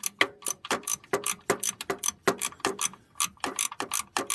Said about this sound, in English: This way the ratchet ratchets.